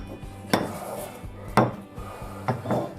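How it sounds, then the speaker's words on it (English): Garlic being crushed with lime juice in a stone mortar; three sharp, separate knocks of the pestle ring out, close and fairly loud, with quieter grinding between them. "We're just going to crush the garlic a little bit."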